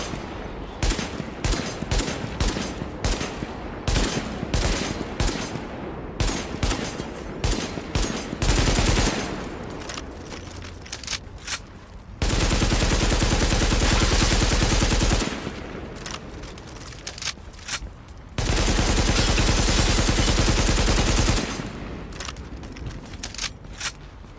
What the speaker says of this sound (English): I also started shooting some random stuff on the streets